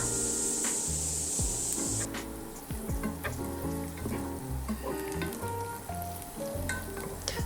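Butter melting with minced garlic in a pan, a bright hiss of sizzling that fades after two seconds into softer frying crackle with repeated wooden scraping and tapping strokes, close and without speech.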